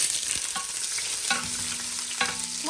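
Onions drop into melted fat and fry with a dense, steady sizzle, marked by a few close clinks and scrapes of stirring.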